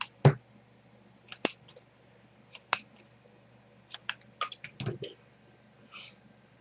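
Scissors cut pieces of cake card, making a handful of sharp, close snips and clicks spaced irregularly over near silence, with faint breathing and rustling between them.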